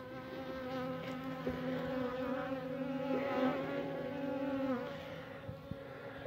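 Honeybees drone steadily around a small nuc hive in February, a dense close buzz with overlapping wingbeat tones that rise and fall as individual bees pass near, continuous for the whole stretch.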